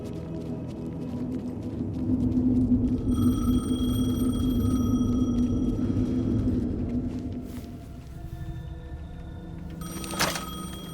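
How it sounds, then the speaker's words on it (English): A payphone rings in the video game Alan Wake 2, its electronic tones cutting in over a low, rumbling ambient drone, with a sharper burst of ringing near the end. "The payphone was ringing."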